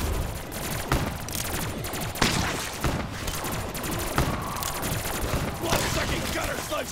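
Rapid bursts of gunfire from a Call of Duty zombies map, dense and continuous with repeated sharp shots and explosions layered together, loud and close throughout with game noise underneath.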